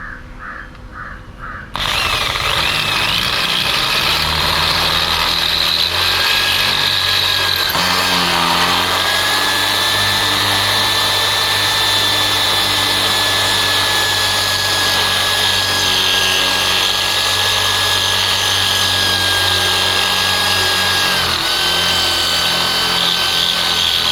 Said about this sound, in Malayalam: നമുക്കിനി ഡ്രില്ലിങ് ചെയ്യാം.